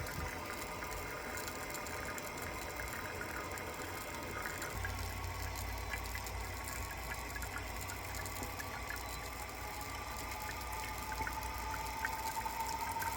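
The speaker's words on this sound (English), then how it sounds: "so I can hear the water level rising in the tank." A toilet tank refills with water, a steady rushing hiss that runs throughout, its tone shifting partway as the level rises.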